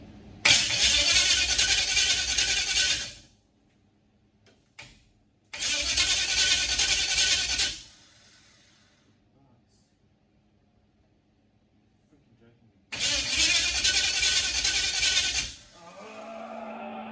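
A Toyota KE70 engine fitted in a Holden Torana cranks and turns over in three long bursts separated by quiet pauses, loud and close, with a low idling rumble at the very end.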